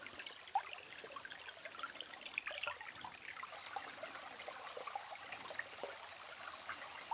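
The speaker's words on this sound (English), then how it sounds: "Ah, the road has become the river." Rainwater running down a road in the dry interior of British Columbia, a faint, steady trickling and babbling flow heard alone, like a small stream.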